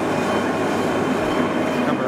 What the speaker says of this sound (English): The chuck is going around at 40 RPM.